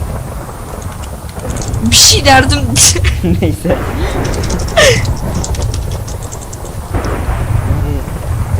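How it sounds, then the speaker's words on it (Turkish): Low Minecraft thunder rumbles roll beneath people talking and laughing, with sharp crackling lightning bursts breaking in now and then. "gökten yıldırımlar çekiyor sürekli"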